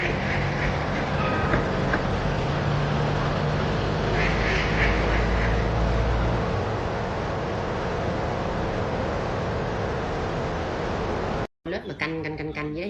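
Ducks quacking outdoors in sub-zero winter temperatures, a few brief bright quacks over a constant rumbling background like passing rail traffic, fairly close, with a sudden cut to a different sound near the end.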